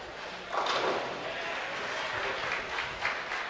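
Distant crowd cheering at a men's bowling tournament during national team trials, a broad wash of noise rising in bursts over steady background hall chatter.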